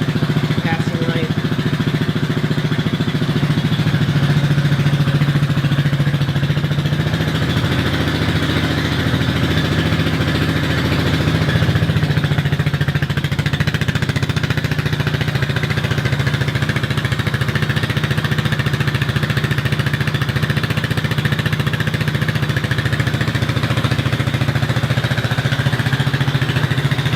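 The engine of a Kymco scooter idles steadily and loudly at close range for the whole stretch, a constant low drone with a slight rise in the middle.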